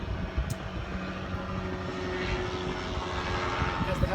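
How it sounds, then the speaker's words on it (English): A helicopter engine drones steadily overhead, building slightly in loudness, with faint voices and background noise underneath. "As the helicopter goes by."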